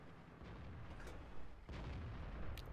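Tank cannon fire in World of Tanks from a T-44 battle, a dense rumbling gunfire bed with a sharper blast near the middle and another crack near the end, loud and continuous without talk.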